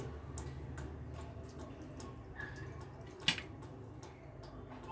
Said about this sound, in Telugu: శుభ్రంగా 2 సార్లు 3 సార్లు కడుక్కోవాలండి